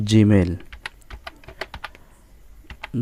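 Keys on a computer keyboard are tapped in a quick, irregular run of sharp, close clicks, with a voice speaking briefly just before and just after.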